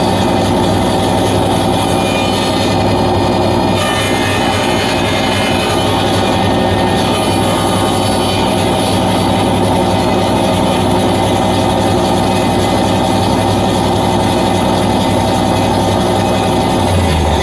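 A power saw cuts through an oak door board in a workshop, a steady loud droning roar with a constant low hum running for the full stretch, no pauses or talk.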